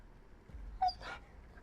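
A puppy-like creature in the video game XCOM 2 gives a single short whimpering yip, brief and moderately loud over a quiet low background rumble, with no voices.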